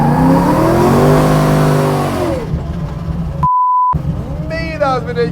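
Drift car revving hard and loud at close range, engine pitch rising and falling in sweeping waves for about two seconds before easing off, followed by a steady electronic beep tone, then an excited voice speaks.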